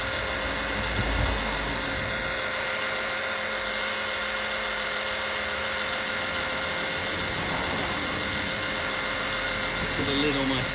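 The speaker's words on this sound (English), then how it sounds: "Pump is on." An oil extraction pump draws oil during an oil change on a Mercedes SLK R170, giving a steady mechanical hum that stays level and close with no break.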